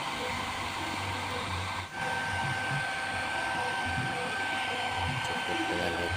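A hair dryer blows steadily on a car headlamp from a 2005 Toyota Vios Limo to soften its glue, a continuous close whooshing hum with one brief dip partway through.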